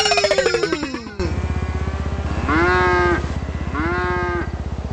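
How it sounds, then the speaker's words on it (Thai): A cow in a video game moos twice as it walks past, long drawn-out calls over a steady rhythmic ticking game background, fairly loud and close. "มี วัวเดินผ่าน"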